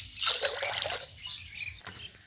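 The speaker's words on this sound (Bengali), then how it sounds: "এখন জল দিচ্ছি আমি, সিদ্ধ করে নেবো আলু দিয়ে, ডিম দিয়ে" Water poured from a container into a cooking pot holding boiled eggs and potatoes, a short close splashing gush that trails into drips.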